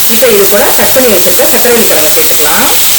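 Carrots, beans and sweet potato sautéing in a pan give a loud, continuous sizzling hiss, with a person talking over it throughout.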